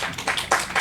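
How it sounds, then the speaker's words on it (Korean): A congregation claps together in a church service, a short burst of dense applause with no voices over it. "우리 큰 박수 한번"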